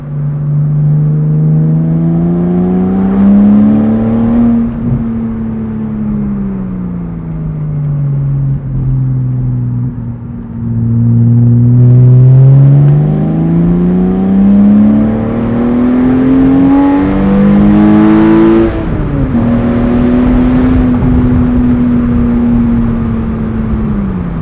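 A modified 2003 Porsche Boxster S engine accelerates in a steady droning tone that climbs and falls with gear changes, heard from inside the cabin through roundabouts, loud and continuous.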